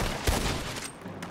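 Gunfire in the Red Dead Redemption 2 roleplay game: a single sharp shot near the start followed by a brief echoing tail, alone without talk.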